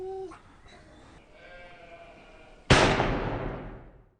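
A sheep bleats in a pen, a couple of short wavering calls at moderate distance, then a sudden loud crack-like burst that decays over a second.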